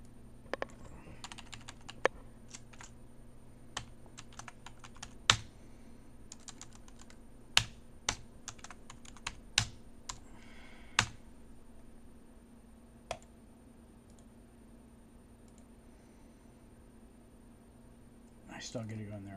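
Irregular keystrokes and clicks on a computer keyboard during a desktop software test, with scattered bursts of typing and single taps over a quiet hum, fading toward the end.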